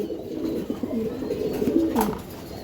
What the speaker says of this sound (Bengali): রাব্বানি ব্লাড লাইনের চড়ুই পাখি কবুতর এটা